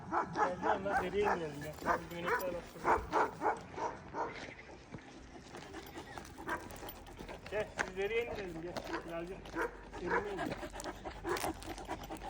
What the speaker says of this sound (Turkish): Fark ettiysen oradaki köpekler hunharca havlıyor.